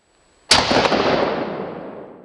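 A single sharp shot from an original Civil War–era P53 Enfield rifled musket fired outdoors during a hunt, a loud close blast followed by a long rolling decay that fades over about two seconds.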